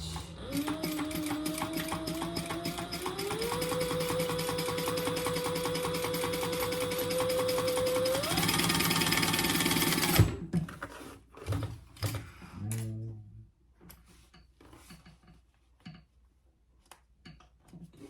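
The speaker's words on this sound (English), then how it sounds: "now let's just top stitch that at 1/8 of an inch" Sewing machine top stitching a crossbody bag at one-eighth inch, a close rapid mechanical whir that rises in speed twice, then stops around ten seconds, followed by scattered handling clicks and rustles.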